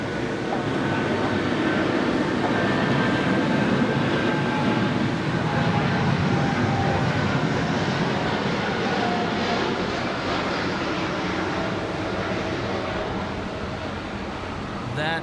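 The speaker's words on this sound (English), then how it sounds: "The 9er Dreamliner about to rotate 16 right." An American Airlines Boeing 787-9 Dreamliner takes off from runway 16 right at Sydney Airport in heavy rain, giving a continuous, even jet engine rumble that runs at a constant level for the whole stretch.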